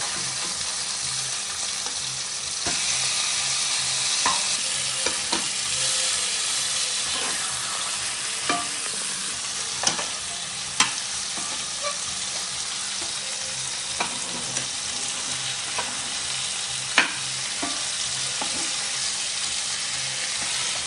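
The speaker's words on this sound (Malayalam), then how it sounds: "ഇത് അങ്ങനെ നമ്മൾ മീൻ ഫ്രൈ ആകാൻ വേണ്ടി വെച്ചിട്ടുണ്ട്." Fish fries steadily in a pan at home in Kerala, a dense continuous sizzle with scattered sharp pops and crackles of oil throughout, close and fairly loud with no talking.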